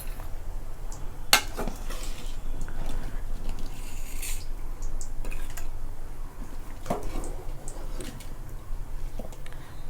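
Cooked arai keerai greens being scooped into a mixer jar with a metal utensil, producing scattered clinks and knocks of metal against the jar, plus soft scraping and squishing close by, with no talk.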